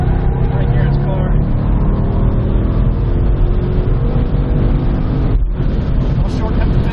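A 2015 Ford Mustang, Dusold Design's Project 6G race car, runs a hot lap on a track, its engine droning loud and steady from inside the cabin with a brief dip near the end while a driver talks over it.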